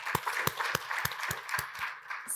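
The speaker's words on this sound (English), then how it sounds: "I think it'd be really great if you all clap for yourselves." Audience clapping at a financial inclusion report launch: a modest room of hands applauding in a steady, fairly sparse rhythm of distinct claps, heard at a moderate distance for a couple of seconds.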